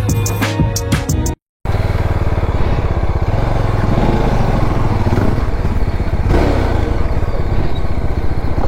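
A motorcycle engine runs loud and close on an offroad trek near Rajmachi Fort in Lonavala, a continuous rough drone with a short break after a clattery start.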